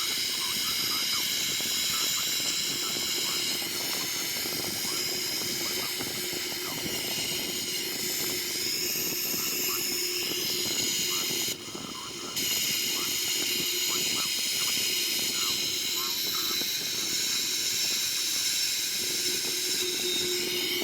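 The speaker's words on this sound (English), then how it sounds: "So starting this engine." A Boeing 737-800 jet engine spooling up in a flight simulator game, a steady loud hiss and whine that holds throughout with a brief dip midway.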